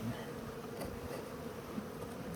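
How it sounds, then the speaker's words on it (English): Yellow jackets buzzing in a steady, low insect drone that stays continuous and fairly faint, with no voices heard. "Well, yellow jackets and stuff are not good."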